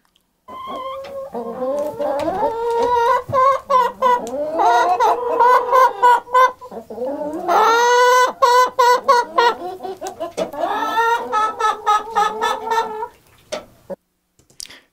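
A chicken clucks and squawks repeatedly in choppy bursts, close and clear, with higher excited calls midway before it falls quiet.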